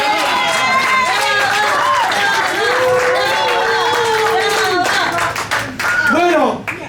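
A crowd applauds a drag performer at a live show, dense steady clapping filling the room, with voices calling out over it before it thins toward the end.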